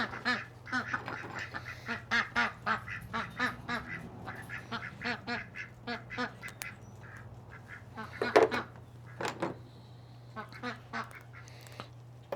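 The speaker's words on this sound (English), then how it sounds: "Crazy ducks." Ducks quack repeatedly in uneven bursts, several birds calling over one another against a steady low hum outdoors.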